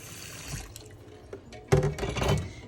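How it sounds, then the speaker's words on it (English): Cold tap water runs into a cooking pot holding boiled eggs, starting with soft handling knocks before a louder gush of water splashing in the pot near the sink. "and put cold water in the pot."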